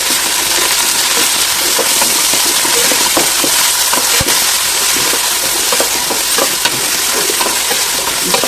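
Beetroot pulao ingredients with mint and curry leaves fry loudly in a pan, a dense continuous sizzle broken by scattered crackles and stirring scrapes, with one sharp tap partway through.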